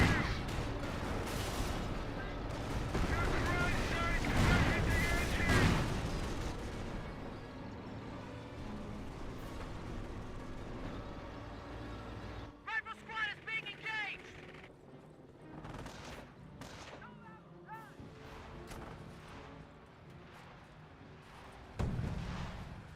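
Artillery barrage from a half-track in Company of Heroes, a World War II strategy game, with dense booms and gunfire rolling through the first half, then sparser scattered blasts and shots with game voices over the top.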